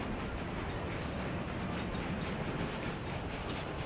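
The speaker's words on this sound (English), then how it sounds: "Start your train." Train running in the Workers and Resources city-building game, a steady, faint rumble of rolling wagons with even rail noise throughout and no voices.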